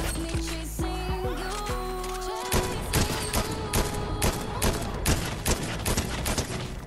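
Rapid bursts of DMR rifle fire in the Fortnite video game, loud and close, a steady string of sharp cracks over busy game background sound, preceded by a few scattered earlier shots.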